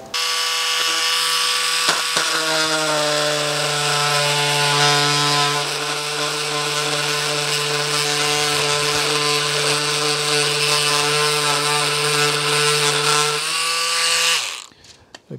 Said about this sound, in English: finally, just a bit of plastic, see how it cuts through this